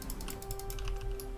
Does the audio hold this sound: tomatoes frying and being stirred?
no